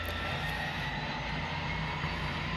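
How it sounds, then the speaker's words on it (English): Propeller aircraft engine in the X-Plane 10 flight simulator, its RPM climbing on the left engine during takeoff near the Panama Canal; a steady, loud, continuous drone of engine noise with no talk over it. "the prop RPM is shooting up on that left engine"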